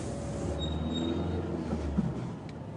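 Metro train at the Gallieni terminus in Bagnolet, a continuous low rumble of wheels on rail with faint metallic squeals and a brief clank, close and steady, no talk.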